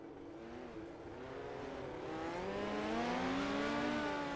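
Midget race cars from a sim racing game roar off the start at Kokomo, several engine notes rising and overlapping in pitch as the pack accelerates, loud and building steadily with no talk.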